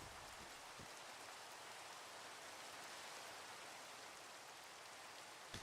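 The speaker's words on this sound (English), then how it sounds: "it's blinking raining again." Steady rain in the Minecraft video game falls as an even, continuous hiss, soft and unbroken throughout, with no voices.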